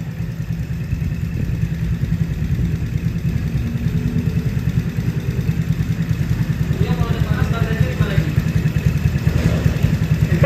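A Yamaha Mio Sporty scooter engine with a newly fitted oil cooler idles steadily up close, its even, low mechanical chatter running throughout, with faint voices briefly audible partway through.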